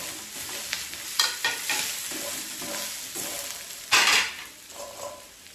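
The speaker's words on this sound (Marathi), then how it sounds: "यामध्ये खोबरा भाजून घेऊया" Grated coconut roasting with sautéed onion in a pan for spicy mutton rassa, a soft continuous sizzle with intermittent scraping and stirring clatter of a spatula against the pan.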